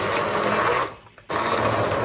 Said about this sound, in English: That blender sounds pretty weird for a while now.